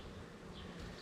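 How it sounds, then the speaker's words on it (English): Honeybees from a very large, overcrowded hive colony in warm weather hum as a steady, dense buzz throughout, close and continuous with no talking. "These bees just, the colony's so big that it's bursting at its seams"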